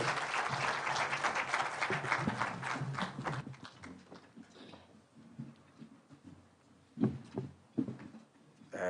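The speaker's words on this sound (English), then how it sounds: "Please be standing and let us give him a hand clap." Audience at a meeting of the Deputy President with United Nations agencies in Karen, Nairobi, applauds loudly for about four seconds, the clapping then fading into scattered claps, shuffling and murmurs as people settle.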